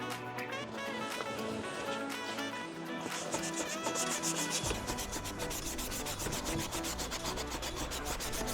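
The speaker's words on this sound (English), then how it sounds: "sand the flat surfaces and then go in by hand and get all the corners" Hand sanding a raw plastic car bumper to scuff it before painting: close, rhythmic scratchy rubbing strokes, quicker and more regular in the second half, with no talking.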